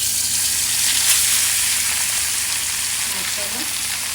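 Tilapia fish fries in hot oil, a loud dense hiss of sizzling that stays steady throughout, close up and without talk.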